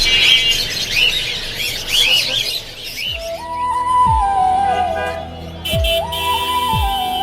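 Caged birds squawk and chirp in a dense, busy chorus at the Mirpur bird market in Dhaka, where pigeons and pricey birds are sold, before a car horn toots twice with a sliding tone.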